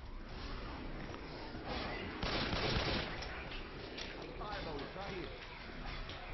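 Rapid gunfire with fire bullets in Left 4 Dead 2, a dense continuous crackle that peaks briefly in the middle, heard under steady talking throughout.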